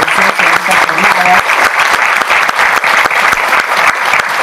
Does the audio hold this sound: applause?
yes